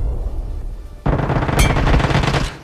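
Automatic gunfire in the battle royale game BGMI, a quiet lead-in giving way to a loud, sustained burst of rapid shots with a sharp crack partway through.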